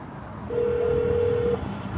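A single steady telephone tone from a phone call played aloud on a Los Angeles TMZ celebrity tour bus, holding for about a second over low bus rumble, with no speech.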